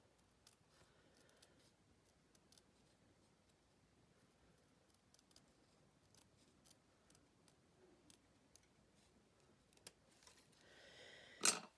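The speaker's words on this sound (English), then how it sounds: "I'm just going to trim this off" Glitter paper being trimmed with scissors, a few faint snips spread across a quiet stretch with low background hiss, and a louder rustling burst right at the end.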